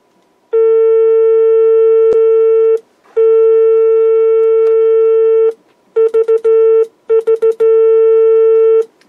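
A pure steady electronic tone from a code practice oscillator, not a perfect sine wave, sounds in two long bursts, then breaks into short beeping pulses like Morse code, clear and loud.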